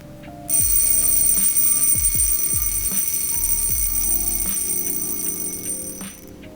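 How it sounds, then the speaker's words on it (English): A Jaeger-LeCoultre Polaris Mariner Memovox wristwatch's mechanical alarm buzzes loudly and continuously for about six seconds, a bright metallic rattling ring close up, then stops abruptly. "The Polaris Mariner Memovox actually sports a third crown, which operates the alarm function."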